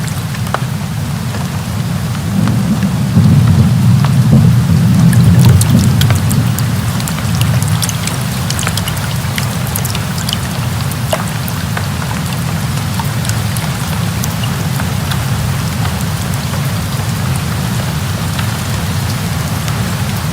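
A heavy rain downpour pours steadily on a surface, close and loud. A low rumble of thunder rolls in the first few seconds, and scattered sharp drips continue throughout.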